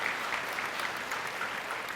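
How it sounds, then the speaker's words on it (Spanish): A church congregation claps together through a service, a soft, steady wash of applause heard from a little distance with no voices over it. "Denle un aplauso al Señor esta mañana"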